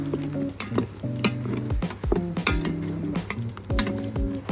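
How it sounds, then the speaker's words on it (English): Washed mushrooms cook in an Instant Pot, sizzling steadily as a utensil stirs them, with repeated scraping and clinking against the pot. "Next, we add the washed mushrooms. We cook for a few minutes."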